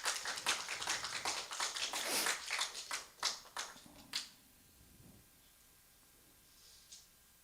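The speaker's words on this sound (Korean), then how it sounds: "다시 한번 박수 부탁드립니다" A church congregation applauding at a Sunday service, a burst of scattered clapping that thins out to a few final claps and then quiet.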